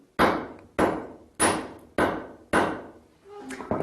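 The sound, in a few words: old hammer striking and refining a metal rod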